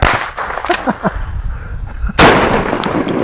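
A Landor Arms Bullpup 12 gauge semi-auto shotgun fires outdoors, with several sharp, loud reports, the heaviest blast near the end, and bits of voice between the shots.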